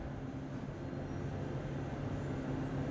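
Pramex commuter train running between Kutoarjo and Yogyakarta, heard at Kutoarjo station: a steady low rumble with a faint hum, continuous and even throughout, at moderate distance.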